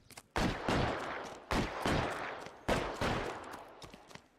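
Gunfire in the LA Noire video game: three loud, sharp bursts of shots about a second apart, each ringing out and fading before the next.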